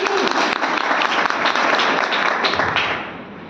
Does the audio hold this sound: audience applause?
yes